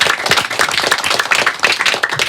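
Elementary schoolchildren in a Strasbourg classroom applaud themselves with loud, dense, sustained clapping that fills the whole stretch without letting up.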